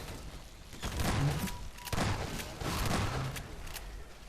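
Weapon gunfire in the SMOD video game: three loud, dense bursts of rapid shots with booming thuds, each about half a second long, spaced roughly a second apart over a steady background.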